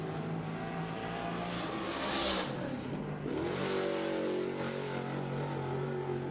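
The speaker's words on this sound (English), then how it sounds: "Alex Jankowski, the kid out of Pennsylvania, the big block modifieds, out here for their time trial run" A big block modified race car roars around Cherokee Speedway on a time trial run, its engine revving loud and close, swelling as it passes and then droning steadily on.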